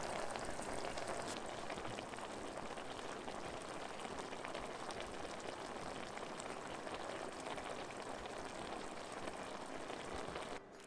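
Mushroom masala simmering under a lid, a steady dense bubbling and light sizzling hiss that runs evenly throughout at moderate level with no talk.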